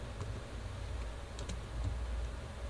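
Quiet keystrokes on a computer keyboard as a git command is entered, a few soft clicks over low background hum.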